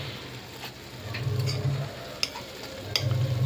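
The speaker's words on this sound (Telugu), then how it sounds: "ఇప్పుడు అటు సైడ్ బాగా వేగిన తర్వాత మళ్ళీ 2వసారి తిప్పుకుందాం" Bread slices fry in a hot pan, making a soft, steady sizzle close by. Light scraping and a few sharp ticks come through as the slices are turned, and no voices are heard.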